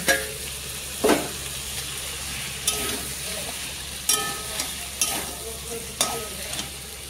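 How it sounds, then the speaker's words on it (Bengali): A fish head frying with potatoes and spices in a pan sizzles steadily and close, broken by sharp scrapes of a spatula stirring roughly every second. "আলুর সাথে উপকরণগুলো ভালো করে ভাজা হয়ে গেছে, এখন ভেজে রাখা মাথাটা ঢেলে দিব।"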